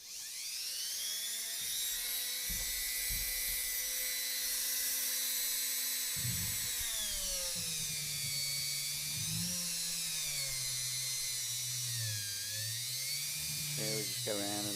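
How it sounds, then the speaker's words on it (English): A Dremel rotary tool whines at high pitch as it cleans a classic Honda brake caliper, its tone rising and dipping as the bit drags around the metal, loud and close throughout. "Again, back to the Dremel."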